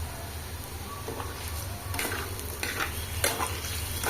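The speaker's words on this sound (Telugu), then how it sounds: "మూత పెట్టొద్దండి, ఇలాగే ఫ్రై చేసేసుకోవాలి" Potato pieces with green chili fry uncovered in an open pan, giving a constant sizzle under repeated scraping stirs that grow louder and busier toward the end.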